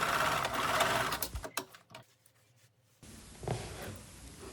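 Sewing machine stitching the lining to the facing of a cashmere balmacaan coat, a fast, steady mechanical whir that stops partway, leaving a quiet gap, then resumes with a short burst.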